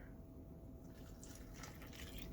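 Milk pouring steadily into a bowl for hotteok batter, a soft continuous splashing that grows a little brighter toward the end, fairly close and quiet.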